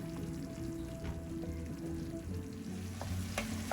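Lemon rice mixture sizzles and bubbles steadily in a pan for a few seconds, with a low hum running underneath and no voices.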